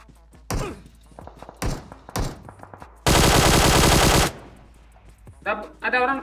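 Gunfire in the mobile battle-royale game PUBG Mobile: several sharp single shots, then a loud sustained burst of rapid automatic fire, followed by a few more close shots.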